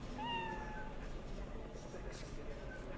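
A cat meows in the video game Cyberpunk 2077, one short rising-falling meow near the start over a steady ambient game background, with a faint voice nearby.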